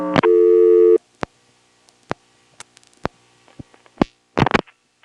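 Payphone coin deposit tones sound on a 1977 telephone line: a loud steady dual tone for about a second, followed by a scattering of sharp clicks and pops on the line.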